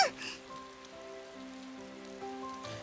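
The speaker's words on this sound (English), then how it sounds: "That's probably just a passing rain, you know." Rain from the video game Hoshizora no Memoria patters steadily at a soft level, layered under gentle sustained musical tones, with a brighter burst at the start and near the end.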